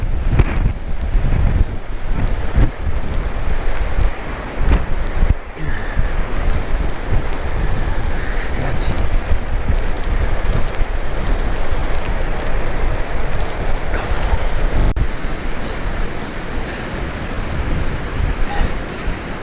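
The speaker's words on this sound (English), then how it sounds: "It is very windy and cold here." Strong, cold autumn wind on the Geneva shoreline roars and buffets the microphone continuously, a dense rushing noise with gusty rumbles and no voices.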